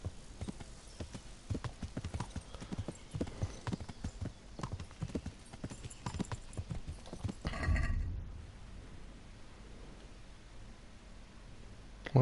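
Horse hooves clip-clop steadily in the medieval role-playing game Kingdom Come: Deliverance, a rapid close rhythm of hoofbeats that stops abruptly near the end, leaving a low ambient hum.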